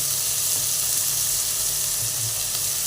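Onions sizzle steadily in hot oil with a spoonful of salt stirred in, a dense continuous frying hiss filling the pan close up without pause.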